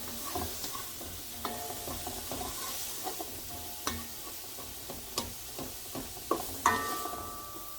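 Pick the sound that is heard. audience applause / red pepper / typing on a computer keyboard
red pepper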